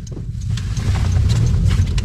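A Honda N-BOX kei car pulls away gently from inside the cabin, its low engine and road rumble building steadily and smoothly over a couple of seconds with no talking.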